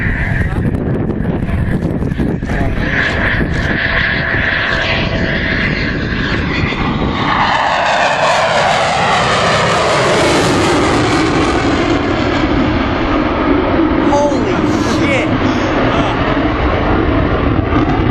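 A Eurofighter Typhoon flies a display pass overhead at the Southport Air Show, with a loud, continuous jet roar that sweeps downward in pitch midway as it passes, and a commentator speaking over it.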